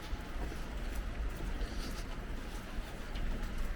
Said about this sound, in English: Ooh, some crows, look at these guys.